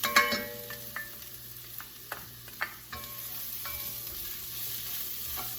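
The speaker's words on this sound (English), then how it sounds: "I'm gonna add in the garlic, just so that they can kind of mingle in with the carrots and the onions" Garlic added to carrots and onions sizzling in a pan for white chicken bean chili, with a soft continuous frying hiss broken by several sharp clinks and scrapes of a utensil, close by and without speech.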